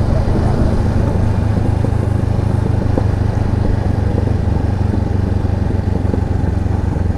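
A motorcycle rides along a country road, its engine droning loudly and steadily with heavy wind rush throughout, a constant rumbling roar with no pauses.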